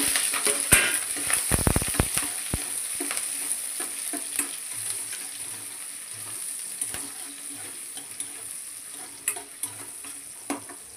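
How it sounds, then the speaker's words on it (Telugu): Thinly sliced onions and green chillies frying in a pan with cumin, a steady soft sizzle broken by sharp clicks and scrapes of a spoon stirring against the metal, close and moderately quiet with no talking. "ఇప్పుడు సన్నగా కట్ చేసి పెట్టుకున్న ఉల్లిపాయలు, పచ్చిమిర్చిని వేసి బాగా ఫ్రై చేసుకుందాం"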